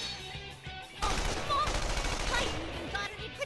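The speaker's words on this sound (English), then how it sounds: "I am met with barricades and heavy artillery." Heavy artillery gunfire in the Persona 4 Arena video game: a dense, sustained burst of rapid shots and blasts erupts after a quiet start, continuing for a couple of seconds before easing, at a moderate, slightly distant level.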